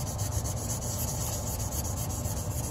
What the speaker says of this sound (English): I'm just going to take some 600 grit sandpaper